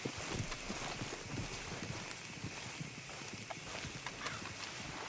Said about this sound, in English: Hey, get back on your horse.